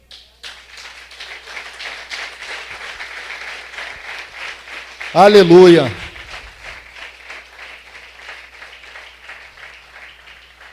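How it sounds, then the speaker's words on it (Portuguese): A Portuguese-speaking church congregation claps steadily in a rhythmic beat throughout, moderately loud, while a voice briefly calls out partway through. "Aplauda o Senhor, querido"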